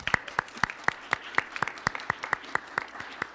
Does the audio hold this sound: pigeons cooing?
no